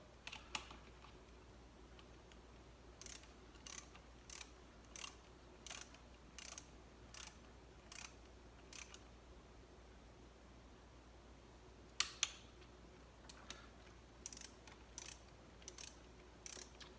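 A ratchet tightens the center valve cover bolt on a 1997 Saturn SC2 coupe, its pawl clicking in quick bursts of rapid ticks separated by pauses, close and clear over a quiet background hum.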